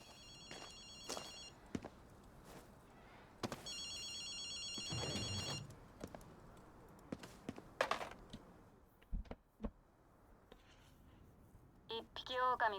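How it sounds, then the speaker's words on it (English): A payphone rings in bursts in Ghostwire: Tokyo, the trilling rings coming twice early on amid game sounds, footsteps and thuds, with more ringing near the end. "I hear a payphone ringing."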